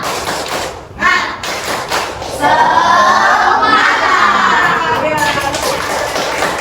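A group in a classroom training session performs a rhythmic spirit clapping chant, with thumping claps and taps under chanting voices that build into a loud, steady stretch.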